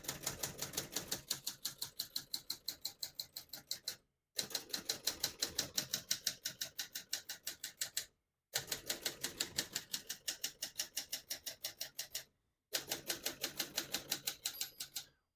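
Steady, rapid keystrokes clack on a 1972 Adler J2 portable typewriter in even runs of about four seconds, each run broken by a short pause, close and crisp with no talk.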